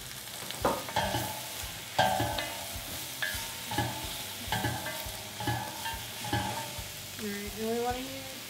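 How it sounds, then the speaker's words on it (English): Mushrooms and onions cook down in a pan for Salisbury steak, a gentle sizzle with regular stirring scrapes about once a second, ending in a brief squeaky scrape. "Now go ahead and drop in our mushrooms and onions. And we want to cook these down."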